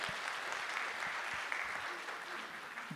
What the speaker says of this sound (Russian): Аплодисменты красивым.